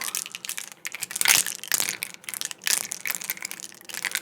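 Pens on a desk give a run of close, quiet plastic taps, rolls and rattles, irregular soft clicks and scrapes for ASMR with no talking.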